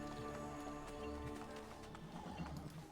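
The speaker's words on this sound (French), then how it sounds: "Oh, ils sont beaux les chevaux là." Horses in the video game Assassin's Creed Brotherhood: continuous soft clip-clopping hooves with a brief whinny, set in a busy, dense game soundscape, fairly faint throughout.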